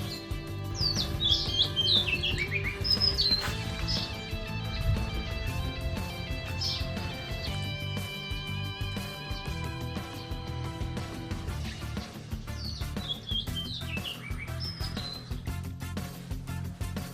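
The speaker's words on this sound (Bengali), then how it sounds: "শুধু পাখিদের ডাক চারিদিকে" Several birds chirp and tweet around a balcony at sunrise in Sursingdhar, Uttarakhand, with repeated high chirps standing out over a steady, layered chorus that continues throughout.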